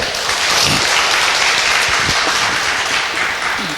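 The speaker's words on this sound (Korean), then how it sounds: "여기까지 이해되신 분들 박수 한번 쳐볼까요?" A seminar audience at a business presentation claps together, a dense, steady wash of many hands that fills the room without pause and with no talk over it.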